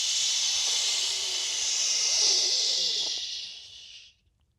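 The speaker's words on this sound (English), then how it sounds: "Exhale, make a shh sound" A long exhale with a hissing shh sound during a yoga flow, steady and close for about four seconds before fading out.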